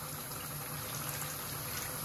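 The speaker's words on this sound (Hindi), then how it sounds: "अभी हम इसको और थोड़ा सा पानी ऐड करेंगे।" Water poured into a pan of simmering aubergine and tomato sauce, a steady, close bubbling and gushing wash that continues unbroken with no talk.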